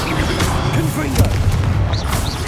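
Confringo, an explosive fire spell in the video game Hogwarts Legacy, bursting with deep booming blasts amid dense, continuous combat noise and a voice.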